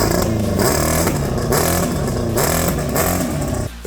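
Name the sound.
1987 Kawasaki GPX 750R motorcycle engine revving, running clunky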